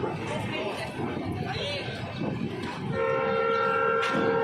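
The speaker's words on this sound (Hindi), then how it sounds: "रिंगस जंक्शन पर अराइव करती हुई ट्रेन" A Delhi Sarai Rohilla–Ajmer Jan Shatabdi Express pulls into Ringas Junction station, its rumble steady and close while people talk on the platform, and a loud sustained horn blares in the last seconds.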